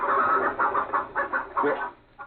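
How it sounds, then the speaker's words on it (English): A chicken clucks in a radio drama, a quick run of rhythmic clucks and squawks close up and fairly loud, with brief gaps between bursts and no talk over it. "Hey, that ain't no hound. That's the chicken."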